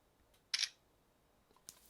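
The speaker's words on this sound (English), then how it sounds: "So I will take a picture of myself and we will see what that looks like." A Realme GT Neo 3T smartphone's selfie camera taking a picture, with one sharp close shutter click followed by a second fainter click a moment later in an otherwise quiet room.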